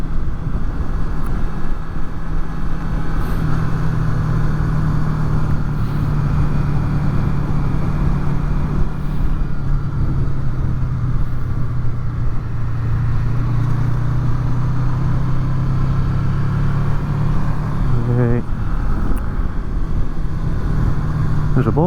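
Honda VFR800 motorcycle riding along with a steady engine drone and constant wind buffeting the microphone, loud and continuous with no talking.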